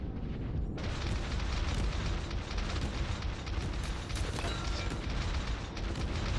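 Naval guns firing in World of Warships, a steady roaring wall of heavy booms and rumble that rolls on without pause, loud and close.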